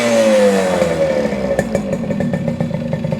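A small 1974 Yamaha RD60 two-stroke motorcycle engine runs close up, its pitch sliding down as revs fall, then settling into a steady idle with rapid ticking clatter and bursts.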